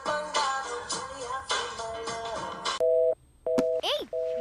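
A phone call tone plays in a Telugu film scene, with steady beeping pulses in the last second or so after stretches of people talking, loud and close.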